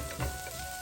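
Onions sautéing in a pan until golden brown, a soft close sizzle with light stirring scrapes and a sharper clink near the end, short and steady with no talking.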